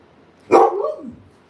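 A dog at a family gathering lets out a single close, loud bark that bends into a brief falling howl, heard alone in a quiet room.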